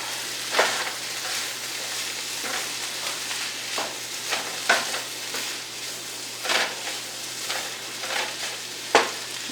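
Food sizzles and fries in a pan as it is stirred, with a steady crackling bed broken by several louder scrapes and clatters of the utensil against the pan, close by and with no talk.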